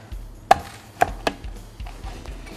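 A cleaver chops chicken bones for a broiler chicken and jelly mushroom soup, giving three sharp, close knocks on a cutting board followed by softer, quieter taps, with no talking.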